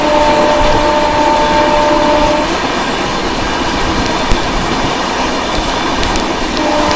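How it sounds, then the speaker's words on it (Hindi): The Secunderabad Rajdhani Express runs alongside and overtakes a Humsafar Express, a loud, continuous rumble of wheels and rushing air with steady rail noise throughout. "ये तो कोई हमसफर एक्सप्रेस को हम लोग ओवरटेक कर रहे हैं।"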